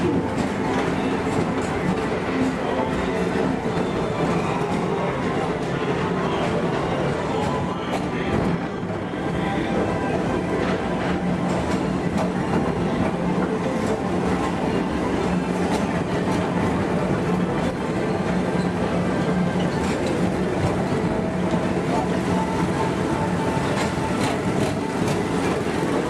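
Ride vehicles of the Tomorrowland Transit Authority PeopleMover at Walt Disney World roll steadily along the track with a continuous rumbling clatter. Faint voices can be heard, and the ride's vehicle noise stays loud throughout.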